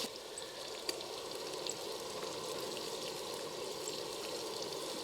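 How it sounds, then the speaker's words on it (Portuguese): Quirera, coarse corn grits, frying slowly in a pan, giving a steady, soft crackling sizzle that stays even and close throughout, with no voices. "você tem que deixar ele torrando e fritando devagarinho"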